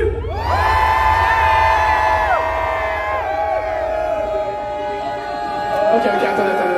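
Festival concert crowd in Tours yells and cheers at full intensity, a dense wall of whoops and shouting that holds steady for several seconds before tapering slightly and swelling again.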